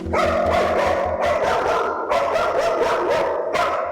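An aggressive dog barks in a rapid, loud series of sharp, insistent barks, close by, with brief pauses between bursts and no talking.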